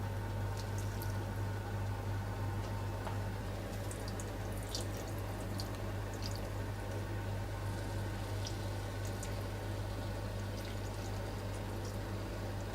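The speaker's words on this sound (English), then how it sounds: "pour your cold syrup all over the top and just have a listen to when it crackles and it pops" Cold syrup poured over freshly baked basbousa, a continuous faint fizzing crackle with scattered tiny pops over a steady background hum.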